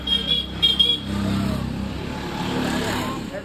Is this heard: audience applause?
no